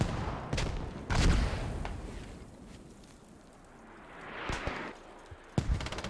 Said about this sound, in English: mortar barrage coming in on the objective. With hell cannons just in case. So much explosions going off.